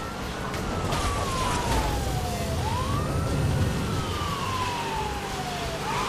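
In the racing game Need For Speed: Hot Pursuit, a police car siren wails in long rising and falling sweeps over a steady engine and road rumble, loud and close throughout.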